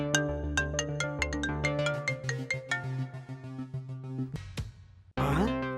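A phone ringtone plays a bright melodic tune of repeated chiming notes, loud and close for several seconds, then cuts off sharply before a brief burst of noise.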